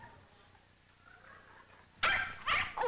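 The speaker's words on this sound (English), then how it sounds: "Oh, what a cute little dog." Small dog in a 1936 film barking in a short burst of sharp yips after a quiet, faintly hissing stretch, fairly loud and close.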